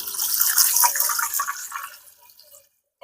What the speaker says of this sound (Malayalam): ഇനി ഇടത്തേക്ക് വെള്ളം കൂട്ടണം. പച്ചവെള്ളം ഒഴിക്കുന്നു.